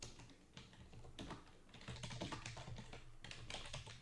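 Fingers type a prompt on a computer keyboard in quick, uneven bursts of clicky keystrokes, close and fairly quiet, with brief pauses between runs of keys.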